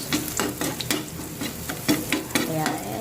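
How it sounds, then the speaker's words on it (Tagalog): Ground pork and onion sauté in a non-stick pan for pork giniling, a steady close sizzle broken by rhythmic scraping strokes of a stirring utensil. "So, gisa-gisa lang natin."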